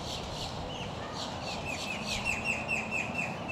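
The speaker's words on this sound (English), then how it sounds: "Birds." Outdoors in Florida, several birds chirp and tweet in quick repeated bursts. The calls are moderately close and stand out over a steady background hiss.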